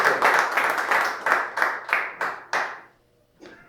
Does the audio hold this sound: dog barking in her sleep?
no